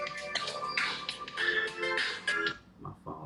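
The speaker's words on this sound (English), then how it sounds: "that's my phone ringing" A mobile phone ringtone plays a bright, repeating melodic tune in several loud phrases, fading at the end into softer chimes.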